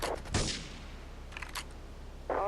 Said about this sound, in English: Investigate reported gunfire and explosions.